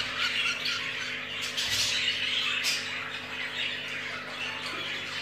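Budgerigar chick being hand-fed with a syringe, squawking insistently up close in a continuous run of harsh, raspy begging calls with no talk.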